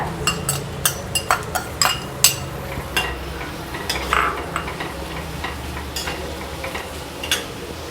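Onion and a potato sautéing in a pan for mint pulao, with repeated sharp scrapes and clinks of a spoon against the pan over a low, quiet frying hiss, close and fairly regular.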